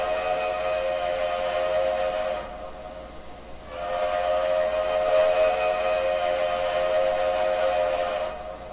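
A steam locomotive whistle from a 2-6-0 engine in the Trainz 2019 simulator blows twice, long loud hissing blasts separated by a short pause.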